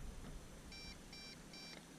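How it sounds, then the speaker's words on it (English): A MJX Bugs 2 B2W quadcopter drone beeps at critical battery while flying over a farm, three short, repeated high-pitched beep bursts sounding over steady wind and motor noise. "The drone itself will actually start beeping."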